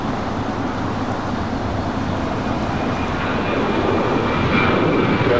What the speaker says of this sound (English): Next takeoff here on the south side. United Airlines flight 1554 heading to Denver. 737-900 ER.